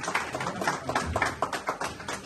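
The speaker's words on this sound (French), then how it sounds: "Est-ce qu'on peut applaudir aussi pour Mako?" Brief scattered clapping, a small group applauding unevenly for a couple of seconds.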